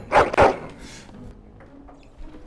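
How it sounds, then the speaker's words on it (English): A dog in the video game Dragon Age: Origins gives two loud, close barks in quick succession, then falls quiet. "This dog secretly is Lassie by the sounds of it"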